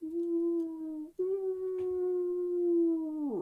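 A single long, steady distant howl holds one pitch for about three seconds, with a brief break near the start and a falling tail at the end, as a sound effect in a tabletop role-playing game.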